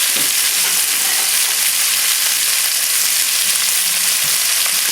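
Garlic chicken cutlets sizzle loudly and continuously in a hot pan, a dense, even frying hiss with faint stirring clatter and no voices.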